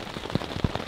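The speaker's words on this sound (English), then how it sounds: "I'm hoping is that it's only raining up here in the actual cloud forest" Rain pattering on surfaces at a rainforest camp up in the cloud forest, a brief steady wash with a few louder drops landing close by.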